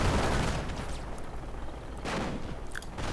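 Rifle grenades and gunfire crash through a video game battle during an infantry assault on a heavy machine gun squad, a dense continuous roar of shots and blasts with louder bursts near the end.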